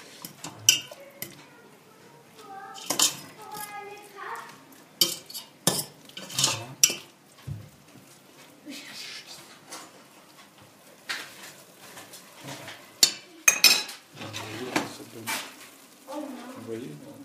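Spoon stirring chicken colombo with potatoes in a pot on the stove, giving irregular clinks and scrapes of utensil against metal across the clip, close and moderately loud.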